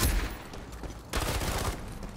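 MK rifle fire in the online shooter Ironsight comes as loud, dense bursts of rapid shots, broken by a short pause and then another sustained volley, with no speech.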